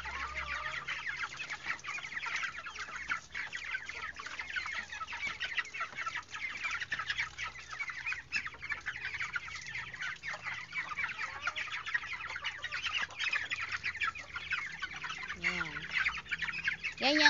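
Three-week-old broiler chickens being bathed on a hot day cluck and chirp continuously as a flock, their calls close and steady throughout.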